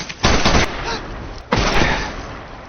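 Two sharp, heavy sniper rifle shots from a film, each a loud broadband crack followed by a rolling tail, spaced about a second and a quarter apart with no talk.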